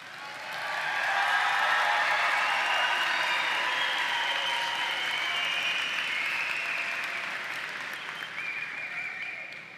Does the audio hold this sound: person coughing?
no